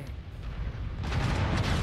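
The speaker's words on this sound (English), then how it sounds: "AMS did its job. You see the missiles get shot down there?" Anti-missile system shooting down incoming missiles in MechWarrior 5, a low rumbling boom and crackle that swells louder in the second half, without speech.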